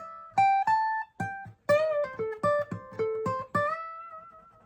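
Acoustic guitar plays a quick run of plucked notes, some bent or slid between pitches, ending on a ringing sustained note with no talking.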